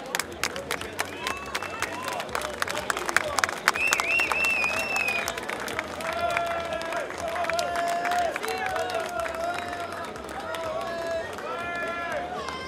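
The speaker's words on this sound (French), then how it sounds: "Vous pouvez les applaudir." An audience claps for the finalists as trophies are handed out at a cup ceremony, with scattered, uneven applause mixed with chatter and voices throughout.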